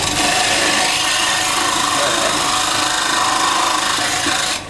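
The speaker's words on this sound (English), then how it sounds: "You just hold your hacksaw like that." A hacksaw cutting through wood in a woodturning workshop, giving a steady, loud rasping scrape that continues without pause and stops abruptly at the end.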